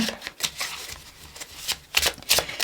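Oracle reading cards are shuffled by hand, producing several quick, crisp riffling bursts close up, with short pauses between them and no talking.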